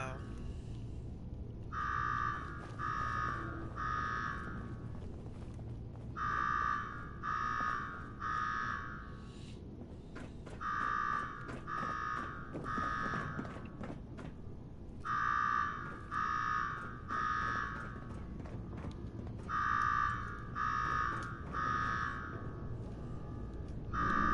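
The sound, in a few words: alarm ringing in video game Fallout 4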